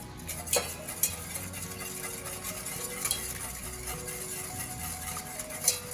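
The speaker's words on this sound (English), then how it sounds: "we're going to whisk cold butter cubes in" Cold butter cubes whisked into a red wine beurre rouge sauce for pan-seared Atlantic salmon, off the heat, giving a steady scraping, swishing rhythm with a few sharper clinks of the whisk against the pan and no talking.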